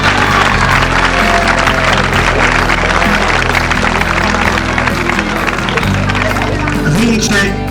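Sustained applause from a crowd at a 1984 semi-contact martial arts event in Carbonia, Sardinia, filling the scene loudly and steadily, mixed with low hum and voices.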